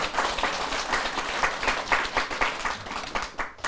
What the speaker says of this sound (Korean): 박수를 많이 주세요.